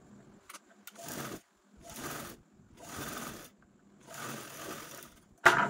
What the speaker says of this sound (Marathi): तर झिपची जी राईट साईड आहे ती जसं बेल्ट स्टिच केलं ना सेम त्यावरती आपल्याला या पद्धतीने ठेवून स्टिच करून घ्यायची आहे